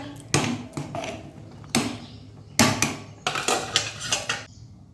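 A cooking pot of rice being lifted off a stove, a series of metallic clanks and scraping knocks of pot and lid, close and irregular.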